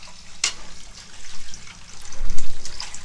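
Warm water running from a sink tap to rinse out a plastic container, a steady broadband wash with a brief splash and a louder gurgle toward the end, heard up close with no talk.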